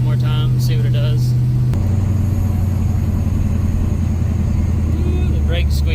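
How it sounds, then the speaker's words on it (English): Brakes on a supercharged LS-swapped C10 pickup give short high squeals as it stops, over a steady low engine rumble, with people talking nearby. "the brakes squeak"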